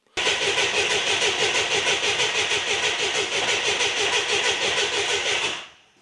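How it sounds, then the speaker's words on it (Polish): A classic car from communist-era Poland, started after a long standstill, cranks and catches, then runs with a steady, rough idle close by before cutting off abruptly near the end. "Na razie odpalimy samochód awaryjnie po dłuższym postoju."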